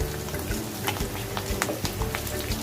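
Cauliflower and carrot frying in a pan as tomatoes go in, a steady dense sizzle with scattered stirring clicks and scrapes, fairly close, without speech.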